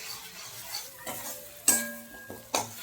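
Mustard-poppy paste with chopped tomato, salt and turmeric is sautéed and stirred in a pan: a faint sizzle under a few distinct clinks of a metal spoon against the pan, close and without talk.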